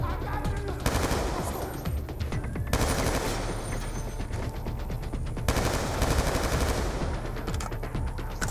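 Sustained automatic gunfire from Call of Duty: Black Ops 2 on Veteran difficulty, dense rattling bursts running continuously over a steady game soundscape, with brief pauses before new volleys.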